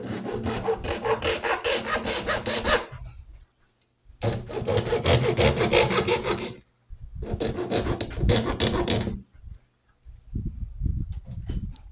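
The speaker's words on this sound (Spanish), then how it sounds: "Utilizo una cegueta y corto" Hacksaw cutting through a short section of PVC pipe, three long bursts of rapid rhythmic back-and-forth rasping strokes close up, separated by brief pauses, then lighter knocks.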